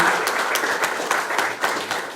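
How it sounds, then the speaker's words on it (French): A church congregation applauds together, with steady, dense clapping holding at an even level and rhythmic accents throughout. "Applaudissons au Seigneur"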